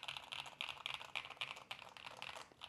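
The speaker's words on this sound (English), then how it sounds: "now I'm gonna put the mic close to the keyboard and we are actually gonna do a full sound test in a few seconds" Close-miked typing on a keyboard built entirely from LEGO bricks: a steady, rapid run of crisp plastic keystrokes with no voices.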